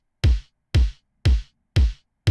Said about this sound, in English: we're running with this punchy pop kick right here